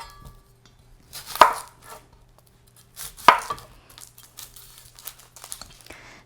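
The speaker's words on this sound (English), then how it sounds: "So I cut the 2 ends off and then I cut down in the middle" A knife chops through an onion on a board for a Thanksgiving recipe, two sharp, distinct cuts about two seconds apart followed by softer scraping and crinkling of onion skin, close and clear with no talking.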